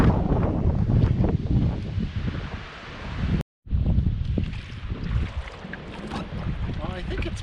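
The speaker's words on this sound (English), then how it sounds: "you can hear that wind roaring in the trees" Gale-force wind of around 28 to 30 knots roars through trees near Buzzards Bay, a loud rushing wash with microphone buffeting that dips briefly to silence midway, with faint talk underneath.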